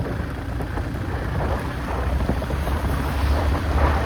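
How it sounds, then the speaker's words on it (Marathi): Rainwater gushes down a ghat road in the Konkan like a waterfall during heavy rain, a loud, dense, continuous rushing wash that swells slightly toward the end. "रस्त्या रस्त्याला धबधब्याचं स्वरूप आलंय"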